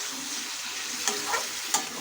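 Marinated chicken stirred in a hot pan for a Bengali-style chicken dum, a steady close sizzle with a few soft scrapes of the spoon against the pan.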